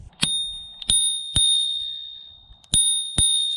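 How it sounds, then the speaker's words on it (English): A bicycle bell on a Himiway long-range e-bike rings five times in two pairs and a single strike, each a bright metallic ding that rings on and fades, heard close with no talking. "Got a nice bell as well."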